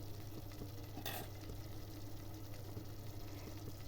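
Spice paste frying in hot oil while being stirred, a faint steady sizzle with light scraping strokes and one brief brighter hiss, quiet and close.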